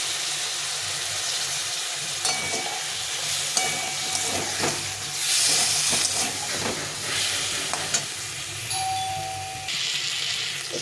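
Ridge gourd simmering with spices and a splash of water in a pan gives a soft continuous hiss and sizzle, broken by occasional stirring clatters and a short high beep near the end.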